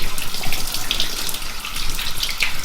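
Warm water gushes steadily from a tap with the pressure pump supplying the warm line, a loud continuous hiss and splash with brief bubbling bursts and no voices.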